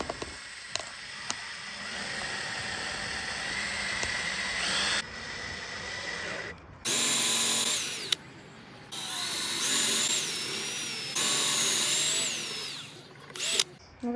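Power drill driving screws into a DIY desk under construction, its motor whining in several loud bursts with short pauses between runs, close to the mic, with no talk.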